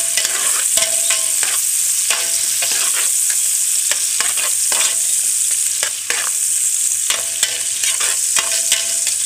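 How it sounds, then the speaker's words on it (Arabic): Sliced onions frying with sugar, a big spoon of ghee and some oil are stirred in a pan: steady loud sizzle with repeated scraping strokes of the spoon throughout, no voices. "حطيت بقى معلقه سمنه كبيره وشويه زيت، هنقلب بقى كله مع بعض"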